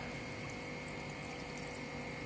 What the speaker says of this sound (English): In this now I am adding in water for the cleaning purpose of the sand.